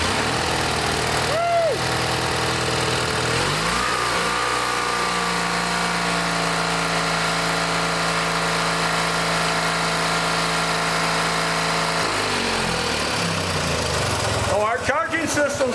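A scrapyard vehicle's engine cranks briefly, catches and settles into a steady, loud idle that runs on for several seconds before cutting off near the end.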